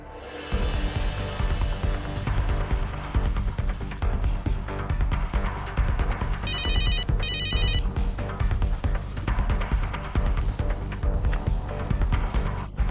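A phone rings in two short bursts of bright electronic trilling partway through, over a constant bed of background music.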